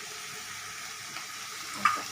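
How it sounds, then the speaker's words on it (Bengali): Sliced tomatoes and vegetables frying gently in a pan, a soft, steady low sizzle with a faint clink near the end, no voices. "এটা ভাজা ভাজা হচ্ছে আস্তে আস্তে"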